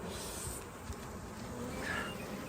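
Honeybees buzz in a low, steady drone while crawling over a hive frame bearing queen cells during nuc making, close and fairly quiet, with no voices.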